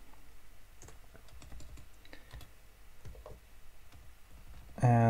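Rapid keyboard typing while code is written, a steady stream of light clicks and taps at moderate volume, ending in a brief louder burst.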